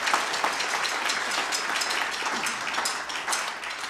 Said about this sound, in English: So a round of applause for Jeff Kelman